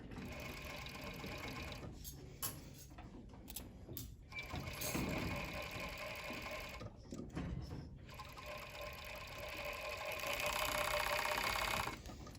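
A coverstitch sewing machine hems fabric with a steady, close mechanical whir that runs almost continuously, broken by a few brief pauses near the start and middle.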